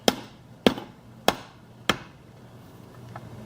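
Hammer blows on metal while overhauling a Powerglide automatic transmission, four sharp ringing strikes at an even pace, loud and close, followed by a quieter stretch with faint clinks.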